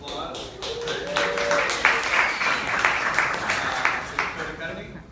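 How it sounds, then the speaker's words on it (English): Audience applause at a Tampa Bay Startup Week morning gathering, a moderate room of people clapping that swells and then thins out, with some distinct individual claps standing out. "Iron Yard, round of applause."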